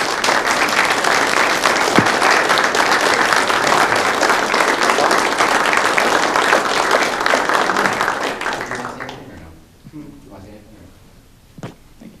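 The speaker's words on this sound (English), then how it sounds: "They deserve a big round of applause, and welcome to the team." An audience at a fire department promotion and new-hire ceremony claps loudly and steadily for several seconds before the applause tapers off, and a voice follows over the fading claps.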